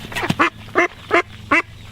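Indian runner and Rouen ducks quacking close by, four or five loud, harsh quacks spaced about a third of a second apart over a faint low background hum.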